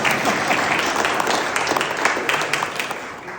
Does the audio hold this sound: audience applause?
yes